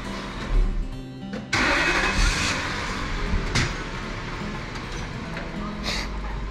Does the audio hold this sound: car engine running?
yes